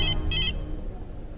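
A phone rings in two short electronic bursts with a brief gap between them, over a low background hum.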